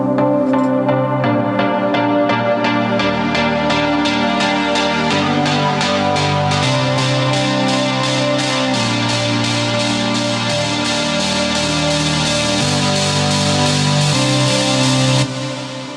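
A bright synth pluck pattern plays steadily, its tone gradually opening up and growing richer and brighter over time as a macro is turned up, then cutting off near the end.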